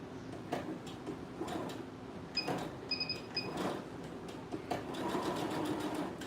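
Domestic sewing machine running a back stitch on a skirt, a steady close mechanical whirr with brief clicks and pauses as the stitching stops and restarts, no talking.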